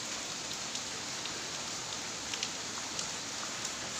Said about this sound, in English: Still it's raining like hell.